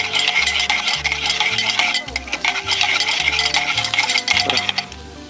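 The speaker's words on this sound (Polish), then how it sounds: "Teraz chwilę mieszamy, sos nam dojdzie." Jerk chicken sauce is stirred in a pan at a grill, with continuous close scraping and clinking of the utensil over a busy sizzle, while a low rhythmic background hum runs underneath.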